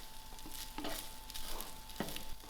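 Rice stirred in a hot frying pan for egg fried rice, the spatula scraping and tossing over a steady background sizzle, with a few louder scrapes spaced through the stretch.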